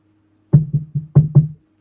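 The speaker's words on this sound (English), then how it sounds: "I mean, knock." Five firm knocks on a door in two quick groups, close and clear against near silence.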